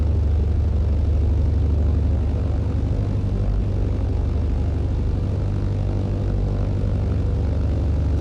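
A propeller aircraft taxis to runway 06 in Microsoft Flight Simulator 2020, its engine droning in a steady, low, continuous hum with no talk.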